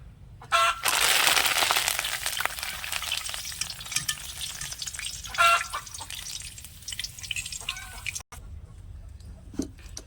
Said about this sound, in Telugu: ఇప్పుడు మొక్కజొన్న అటుకులు కరివేపాకు కూడా వేసి వేయించుకోండి